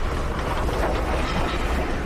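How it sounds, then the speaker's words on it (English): A train passes in a radio drama, its steady low rumble and rolling clatter filling the scene at close range, with no voices over it. "It's another train."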